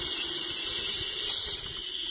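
Water runs and hisses steadily, pouring from the cooling system of a Citroën ZX 1.4i during a radiator flush, with a brief louder gush partway through.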